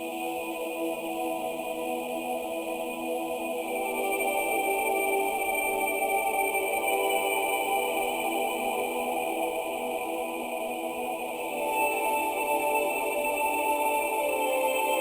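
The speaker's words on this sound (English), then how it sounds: "made some chords with this breathy choir preset from Serum" A breathy choir pad from the Serum synth plays slow sustained chords bathed in reverb, a smooth unbroken wash of layered tones that shifts chord partway through, with no voices.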